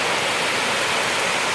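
Heavy rain pouring steadily during an evening thunderstorm near a garden and small building, a dense, constant hiss of falling water with no breaks, close and loud, no voices.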